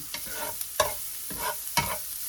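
Garlic frying and being stirred in a pan, with a steady sizzle and a few sharp scraping stirs at regular intervals, close up, no talking.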